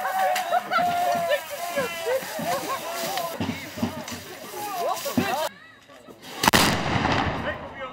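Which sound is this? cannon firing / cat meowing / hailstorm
cannon firing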